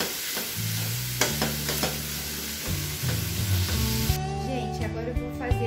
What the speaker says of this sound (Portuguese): vou colocar alho batidinho com um pouquinho de sal